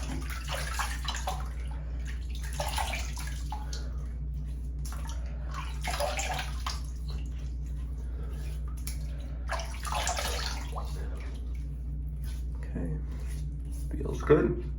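Water runs steadily from a bathroom faucet during rinsing, a soft constant hiss beneath intermittent speech.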